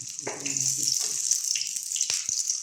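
Onion and garlic sauté in a pan for a bean sprout and tofu dish, giving a steady, close hiss of frying under brief bits of talk.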